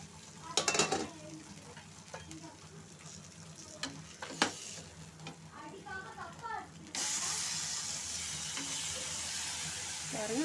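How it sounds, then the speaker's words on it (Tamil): Fish frying in oil in a home kitchen. Early on come a few clinks and faint voices, then a loud, steady, close sizzle sets in and continues to the end. "பாருங்கள், எண்ணெயில் நல்லா பொரிச்சிட்ருக்கு."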